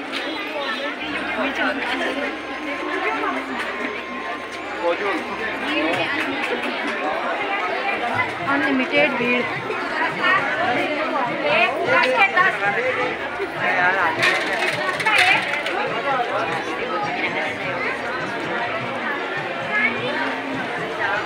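A crowded market lane during Dhanteras, with flower garlands on sale, fills with dense, continuous crowd chatter and bustle close around, a voice briefly speaking over the babble.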